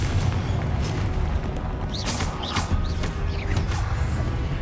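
A Confringo blasting spell in Hogwarts Legacy goes off as a loud, rumbling explosion with a sustained roar and sharp crackling bursts, heard up close with no talk.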